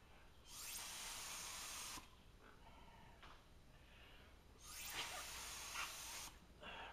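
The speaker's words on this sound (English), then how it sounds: "I'm going to just give it a light spray on the face here." Two bursts of fine spraying hiss as wood ash glaze is sprayed onto a pot's face, each lasting over a second, separated by quiet moments with faint handling sounds; soft and close.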